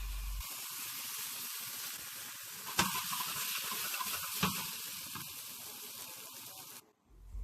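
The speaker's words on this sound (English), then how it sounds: "Then I'll sear them in a cast iron skillet." Boiled green beans searing in a cast iron skillet give a steady, close sizzle with a couple of sharp pops, then the frying cuts off abruptly near the end; no one speaks.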